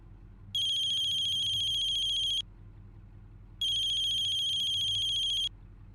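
A phone ringtone rings in two identical bursts of a high electronic warble, each lasting about two seconds with a short silent gap between, over faint room hum.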